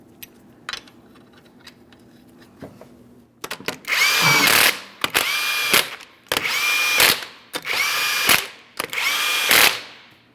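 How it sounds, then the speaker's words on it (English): Wheel lug nuts, 21mm, on a 2005-2010 Chrysler 300 are driven by a power tool in five loud whirring bursts separated by short pauses, after a quiet start with a few faint clicks. "We'll torque each of these lug nuts to 140 foot-pounds."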